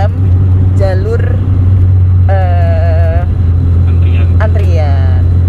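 A car cruises on a toll highway at night, its steady low engine drone and road hum running constantly beneath loud, close voices talking over it.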